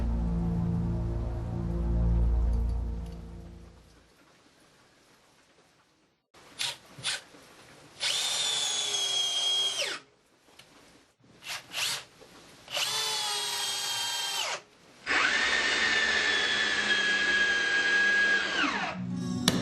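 A Bosch 12V brushless Flexiclick drill drives big screws, giving several close whirring bursts whose pitch sags as each screw bites, after an opening low rumble.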